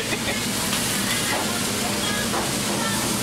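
Chinese wine hitting a hot wok, giving a steady, loud sizzling hiss that holds evenly throughout.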